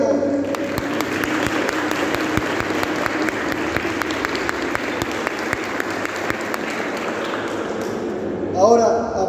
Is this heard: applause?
yes